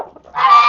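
A goose honks once, close and loud, in a farm coop yard where corn is scattered for poultry, a short nasal call rising out of a brief lower cluck.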